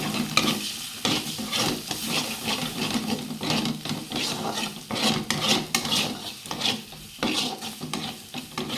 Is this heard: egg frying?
yes